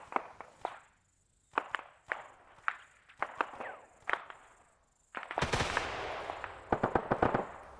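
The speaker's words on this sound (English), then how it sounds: "Gunshots northwest." Bursts of gunfire in the video game ARMA 3 crack in quick irregular volleys, single shots, then a louder rapid stretch of automatic fire near the end.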